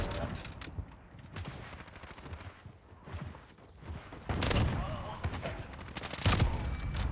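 Gunfire in a PC Search and Destroy shooter game, where a sniper rifle is in use: scattered shots and mechanical clatter, with two louder sharp blasts in the later half, while voices talk throughout.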